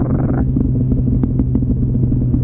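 Motorcycle fitted with an SC Project exhaust, a loud, close, deep idle rumble after a quick blip, with sharp pops crackling through it.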